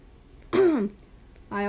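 A single rough throat clearing, close and loud, followed a moment later by the start of a voiced sound.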